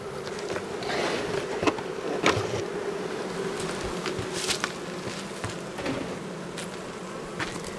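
Honeybees swarm in the air around an opened hive during a winter check of a colony's stores, giving a steady, dense buzz with individual bees zipping close past now and then.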